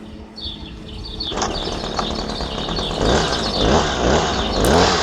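A STIHL HS 46C two-stroke hedge trimmer engine fires at about 1.3 s and settles into a steady buzzing run, close and loud, with its pitch rising slightly as it revs near the end; faint bird chirps sit in the background beforehand.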